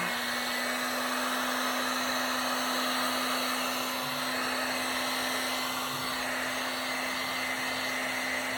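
A hair dryer blows steadily and loudly for several seconds, drying matte Fusion Tough Coat paint on a guitar, a constant whooshing hum with no pauses and no speech.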